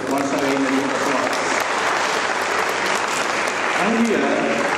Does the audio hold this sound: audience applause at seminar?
yes